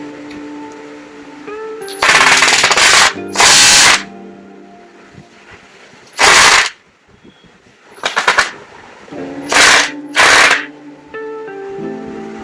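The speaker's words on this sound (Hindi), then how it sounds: "अब देखते हैं कि स्क्रू और कितना अंदर जा सकता है। तो मैं स्क्रू लगाता हूँ।" Bosch GSB 120Li combi drill driving a screw into a workpiece in screwdriver mode with the clutch setting raised, giving several loud whirring bursts of one to two seconds separated by quiet pauses.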